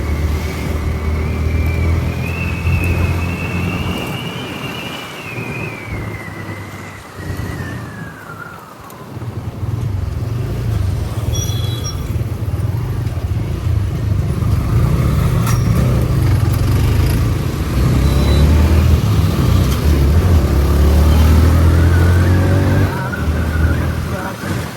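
A Yamaha MT R15 motorcycle rides through night traffic, its engine droning steadily up close with rising and falling revs, wind rush and passing vehicles around it, and someone talking over the ride.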